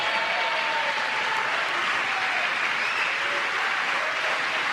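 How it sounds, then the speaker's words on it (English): A large crowd at the State of the Union bursts into sustained applause and cheering, a dense, steady roar of clapping that holds at full strength with no break. "crowd cheering."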